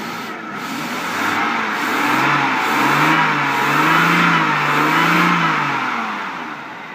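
A Jaguar X300 with a 4.0 engine running on petrol vapour revs up loudly and holds a strained, rising drone for several seconds before easing off, heard close and alone.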